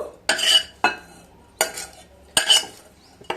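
Thick rava appe batter with vegetables and salt is stirred in a bowl, with four or five close, rhythmic wet scraping strokes separated by short pauses.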